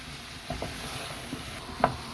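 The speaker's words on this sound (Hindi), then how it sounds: "इसको थोड़ा सा सोते करेंगे, इसके साथ ही ये मसाले डाल देंगे।" Spices are sautéed in a pan with softened onions and tomatoes as the base for butter chicken. A faint, steady sizzle runs under a few soft stirring knocks, with no one talking.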